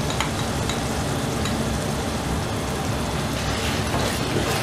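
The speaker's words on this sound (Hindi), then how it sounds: "अभी इसमें अच्छी तरह मिक्स कर लेंगे और पकाएंगे।" Steady sizzling of chickpea masala in a hot pan as half a cup of fresh yogurt is stirred in, a dense continuous crackle close by with no talking.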